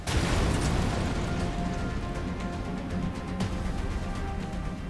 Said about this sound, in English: That was a pretty explosion.